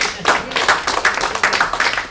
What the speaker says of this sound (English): You should clap for him, guys.